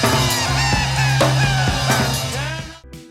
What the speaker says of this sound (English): a strange, high-pitched sound that resembles seagulls but is actually just Paul's laughter